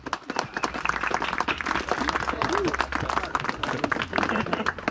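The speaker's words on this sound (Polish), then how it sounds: "Myślę, że oklaski" Crowd applause at the opening ceremony of the Myślenice Single Tracks mountain-bike trail, dense close-up clapping from many people sustained throughout, with people talking underneath.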